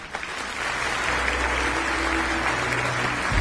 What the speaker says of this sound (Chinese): 现场传来一片掌声